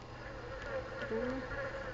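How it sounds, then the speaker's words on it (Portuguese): A fly buzzes loudly and close in a video game, a steady droning hum with shifting pitch that carries through the whole stretch alone. "Já chegou a mosca aqui rápido."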